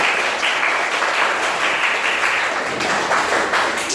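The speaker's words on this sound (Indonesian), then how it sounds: "Ya, tepuk tangan." A room of children applauds together in loud, dense, continuous clapping that lasts a few seconds without pause.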